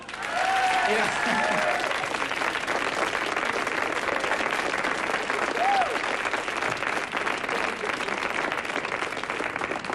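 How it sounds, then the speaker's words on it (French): A concert audience at a live show bursts into loud, sustained applause that fills the hall throughout, with a voice briefly heard over the clapping. "Vous avez le droit d'applaudir, vous avez le droit."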